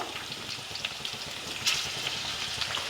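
Garlic cloves dropped whole into a hot pan for a traditional mixed-vegetable chutney, frying with a steady, dense crackling sizzle, close and continuous, with brief sharper pops and no voices.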